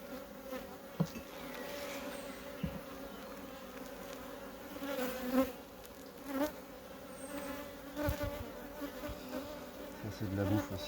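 Honey bees on a beehive frame buzz steadily at close range, a low droning hum with individual bees flying past the microphone now and then, no voices.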